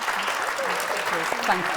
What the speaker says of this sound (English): could you give them all a round of applause?